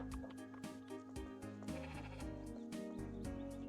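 Repeated sheep bleats in the farming game Discounty, several bleats in quick succession sounding loud and close over a layered game music bed.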